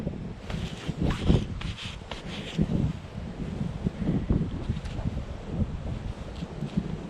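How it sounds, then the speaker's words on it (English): Wind gusts across open Yorkshire farmland, buffeting the microphone with a steady rumbling rush and some rustling, fairly loud throughout with no talk. "Well, the wind has come now"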